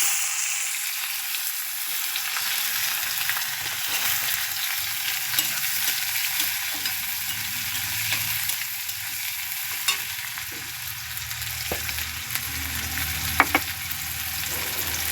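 Onions sizzling and frying in a pan with cumin for an egg curry, a steady close hiss with occasional stirring scrapes and pops.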